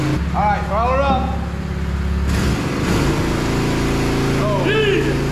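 A homemade redneck fuel trailer's engine is throttled up, its steady low drone rising and holding loud and close, with people talking and shouting over it.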